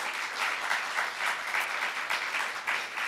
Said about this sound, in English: Please welcome them. Give them a round of applause.